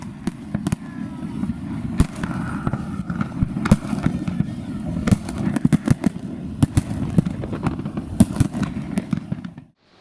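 New Year fireworks over Sydney Harbour burst in a rapid barrage of sharp cracks and booms over a constant rumbling crowd-and-traffic wash, loud and irregular, then cut off abruptly.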